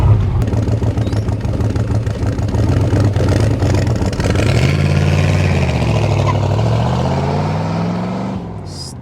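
A 1966 Chevrolet Corvette big-block V8 roars close by, its pitch rising then sliding down as the car passes and fades.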